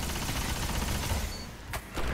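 Necrochasm exotic auto rifle in the Destiny video game, a rapid burst of gunfire followed by a short sharp explosion crack near the end, loud and close over a dense noisy game background.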